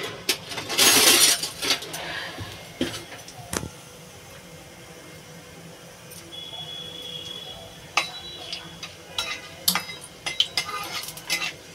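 Whole cumin seeds go into a hot cooking pan for a posto dish, with a burst of sizzling near the start, then scattered metallic clinks and scraping of utensils against the pan.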